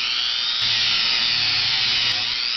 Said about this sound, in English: go ahead and buff this out until you see a mirror finish